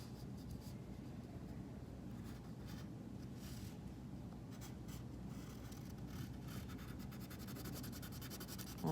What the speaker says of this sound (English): I'm just going to draw some more larger branches coming off of that.